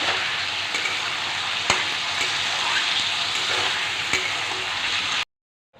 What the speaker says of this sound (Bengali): সবজিগুলো ভালো করে একটু ভেজে নেব